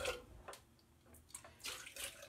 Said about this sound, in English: Dump out the water out of the scuttle.